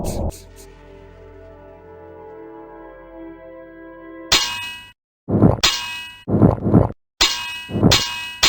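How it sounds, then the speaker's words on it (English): A clock tower bell in the video game Blood Omen 2 gives one ringing clang that hums and fades, then short voice fragments and game sounds cut in and out. "Find the clock tower and ring its bell."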